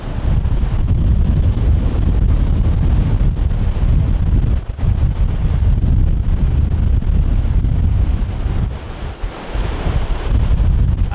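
Strong wind roars across the rocky coast at Xghajra, Malta, pounding the microphone in a loud, unbroken rush mixed with surf, briefly dipping now and then.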